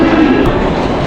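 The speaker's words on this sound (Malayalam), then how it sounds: "അയ്യോ, ട്രെയിൻ വരുന്നുണ്ട് സുഹൃത്തുക്കളെ." A Mumbai local train pulling into a station, a loud, steady rumble of rolling wheels and carriages close by, filling the whole moment without any speech.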